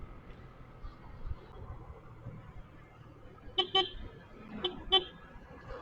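Car horns honk in short bursts through a holiday-homecoming traffic jam on the Sidoarjo–Malang route, several toots clustered near the end over a low, steady rumble of idling road traffic.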